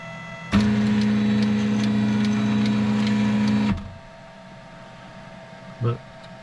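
A Creator Pro 3D printer readying itself to print hums loudly and steadily for about three seconds with a faint rhythmic ticking, then stops abruptly, followed by a brief soft thump.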